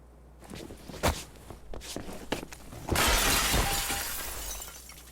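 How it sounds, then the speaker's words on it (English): Footsteps thud, then glass shatters loudly in the video game Friday the 13th: The Game, its crash and tinkling debris ringing out and slowly fading. "So we just heard somebody just bust through some glass."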